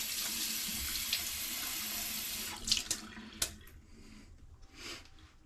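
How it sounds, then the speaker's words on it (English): A tap runs steadily into a sink to wet a brush, a close hissing stream that cuts off partway through, followed by a few faint splashes and handling sounds. "Go ahead and get the second brush wet."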